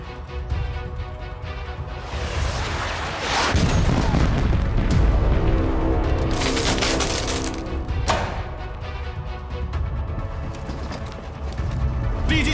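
Heavy explosions and rumbling blasts from a graphite bomb strike in a military drama, a sustained, dense roar with layered booms and crashes, loud and close.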